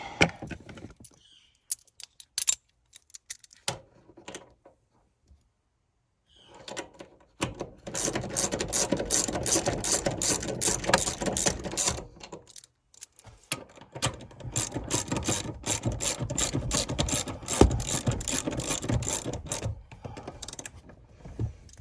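Ratchet wrench tightening a seat bolt in a 2015 Honda Fit during a seat upholstery install, with scattered clicks first, then long runs of rapid close ratcheting separated by brief pauses.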